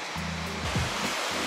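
Steady ocean surf washes onto a beach at Fañabé on Tenerife, a broad continuous rush of waves heard alone and fairly close, with a low engine-like hum underneath.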